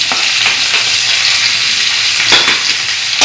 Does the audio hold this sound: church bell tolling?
no